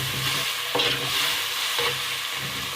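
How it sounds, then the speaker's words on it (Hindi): Tomatoes frying lightly in a pan, heard as a steady soft sizzle with a couple of brief stirring scrapes. "इसको भी हल्का सा फ्राई कर देंगे"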